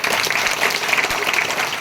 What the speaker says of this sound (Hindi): जो लोग सो रहे हैं उन्हें एक बार ताली बजा दे सोने वालों के लिए।